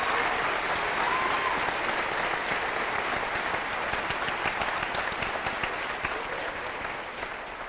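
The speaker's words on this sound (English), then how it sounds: "Would you please give all three of our choruses another round of applause?" An audience applauds three school choruses at a district concert, a dense, sustained wash of clapping that gradually tapers toward the end.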